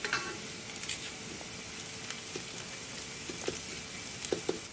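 Curry leaves hitting hot oil in a frying pan with fried ingredients, a continuous crackling sizzle with scattered light pops and utensil taps.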